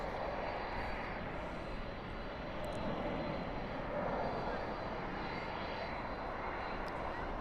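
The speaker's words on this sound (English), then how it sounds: "And that UPS 747 is starting to move." A UPS Boeing 747 starts rolling at Dallas/Fort Worth airport at night, its engines a steady, broad roar that holds level and fairly loud throughout, with no clear peaks.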